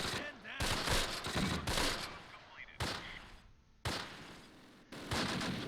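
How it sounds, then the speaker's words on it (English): Machine gun fire in the WWII strategy game Close Combat, set at Veghel in 1944, loud bursts of gunfire and explosions in repeated waves with brief lulls, with a voice talking in between. "we'll just put some machine gun fire in there"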